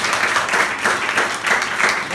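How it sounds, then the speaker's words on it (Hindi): Schoolchildren at a school event clapping for themselves, a loud burst of dense group applause in quick uneven rhythm, close and lasting a couple of seconds. "जिन लोगों ने यूनिफॉर्म पहना है पहले वो अपने लिए जोरदार ताली बजाओ"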